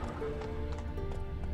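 Roach the horse in The Witcher 3 gives a short neigh over soft hoof clops, quiet and brief beneath a game music bed.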